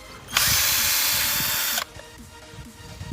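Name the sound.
cordless drill unscrewing a screw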